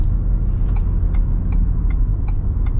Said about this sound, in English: We're gonna get another acceleration here.